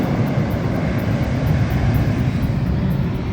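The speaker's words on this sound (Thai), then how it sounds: "นั่นคือ American Airlines" American Airlines jet at LAX airport, a loud, steady broadband engine roar filling the whole stretch, close and continuous with no talk.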